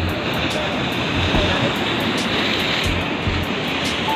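Big ocean waves roll in at the mouth of a river at Pelawangan Puger, Jember, heard as a loud, steady broadband roar of surf with no clear gaps between breakers.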